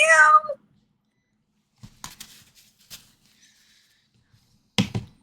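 A single short cat meow, fairly close and clear, opens a voice memo, followed by quiet with a few faint clicks and a brief burst of noise.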